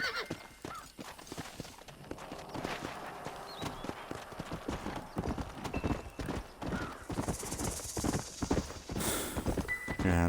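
Horse hooves clip-clop in the video game Red Dead Redemption, a fast rhythmic run of close, loud hoof strikes with a neigh or whinny mixed in and some game sounds around it.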